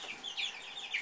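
Month-old chicks in a brooder chirping and clucking softly, a few high overlapping peeps close by in a brief burst.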